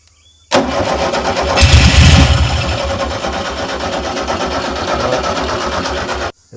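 An old VW fire truck engine turns over on its starter with a steady rhythmic churning crank that swells briefly and keeps going for several seconds, loud and close, then cuts off abruptly.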